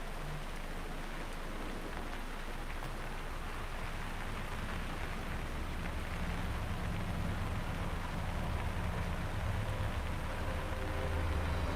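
Steady rain falling in a Hitman level, a dense continuous patter on surfaces with a faint low rumble beneath, even and unbroken with no voices.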